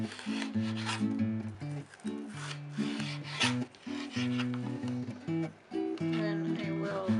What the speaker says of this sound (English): Now we will slice pepper into thin slices.